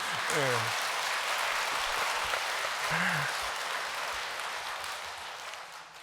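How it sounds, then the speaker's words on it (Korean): A church or lecture audience claps through a priest's talk in a soft, diffuse wash, with brief tonal voice-like sounds near the start and middle, fading slightly toward the end. "뭘 알지도 못하고 박수를 치셔 자꾸."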